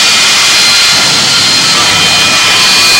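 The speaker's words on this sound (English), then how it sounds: "This is TV Tommy Ivo's latest race car, his jet-powered dragster." Jet-powered dragster race car engine roaring at full power, a loud, continuous broadband jet roar with a steady high whine throughout, and no talking.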